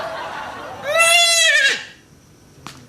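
One loud, wavering goat bleat rises and falls for about a second, followed by quiet and a small click.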